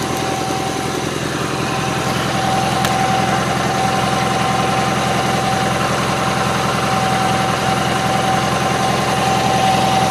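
A Gravely 8163-T garden tractor idles steadily with an even, continuous engine drone and a faint rattling pulse throughout, close and unchanging for the whole stretch.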